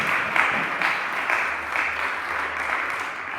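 A church congregation breaks into loud, sustained applause, a dense wash of many hands clapping evenly with slight swells, and no voices on top.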